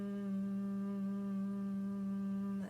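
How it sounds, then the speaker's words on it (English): A single person hums one steady low note with closed lips, soft and even throughout, ending abruptly. "close your mouth, and make a humming sound"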